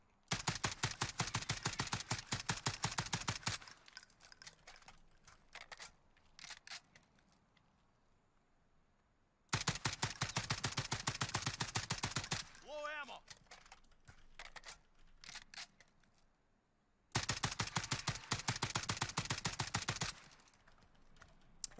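FAL rifle fire in the Warzone video game at long range, three long bursts of rapid, evenly spaced cracks that stay loud and steady, separated by quieter stretches with faint shots and game noise.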